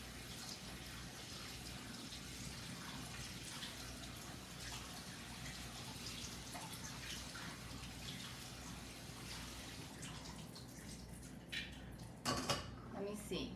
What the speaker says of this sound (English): And then rinse it under the cold water.